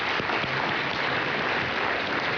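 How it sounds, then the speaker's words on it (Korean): Forum audience at the Seoul Digital Forum applauding in a hall, an even, continuous wash of clapping heard from a distance with no voices over it. "다시 한번 감사의 박수 부탁드립니다."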